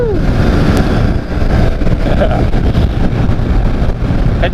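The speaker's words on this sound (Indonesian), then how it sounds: "Kencang juga Vespanya Jero cuy, karena dia sudah menggunakan CDI dan mesinnya sudah sedikit dioprek cuy" A modified Vespa scooter fitted with a CDI ignition and a reworked engine runs at speed on a morning ride to Bedugul, giving a steady, loud engine drone mixed with heavy wind rush.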